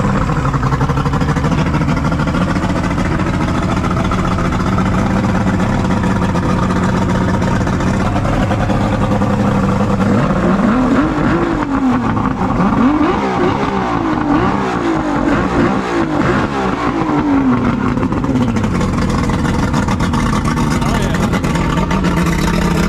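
An outboard boat engine on a workbench, a motor that passed a compression check, runs loud and steady throughout, with revving swells partway through and a voice talking over it.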